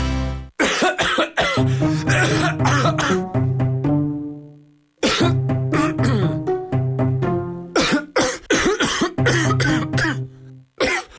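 Repeated harsh, phlegmy coughing fits, loud and close, in two bursts separated by a short pause, from a TV advertisement.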